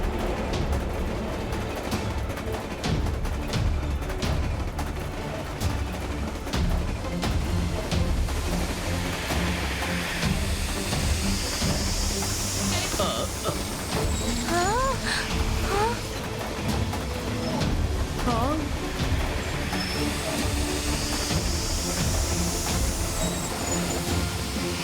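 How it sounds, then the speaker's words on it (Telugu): A train in the video game Rudra: The Rise of King Pharaoh runs in reverse with a steady rolling rumble. Brief wheel squeals and clanks rise over it, along with some faint game sounds. "నా ట్రైన్ ఇప్పుడు ఆపోజిట్ డైరెక్షన్ లో వెళ్తుంది"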